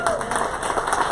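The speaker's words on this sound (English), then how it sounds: "Give yourselves a round of applause" Applause from an audience at a political gathering, a dense steady wash of clapping throughout with crowd noise mixed in.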